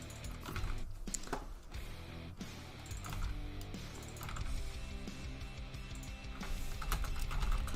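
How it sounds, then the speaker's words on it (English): Computer keyboard keys clicked in quick, irregular bursts during a live C# coding session, close and fairly quiet, with short pauses between runs of keystrokes. "Let me make sure I'm typing that right."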